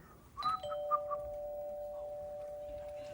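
A Whose Line Is It Anyway performer mimics a doorbell with the voice, giving a few short chimed notes followed by one long sustained tone, close and clear against quiet room air.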